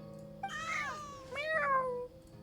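A person imitates a cat with two drawn-out meows, each rising then falling, close to the microphone in a quiet room with a low hum beneath.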